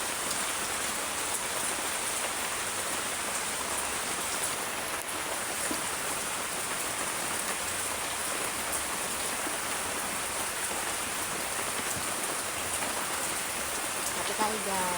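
Heavy rain pours down in a dense, unbroken hiss, dripping and splashing on surfaces close by, steady and loud throughout with no pauses.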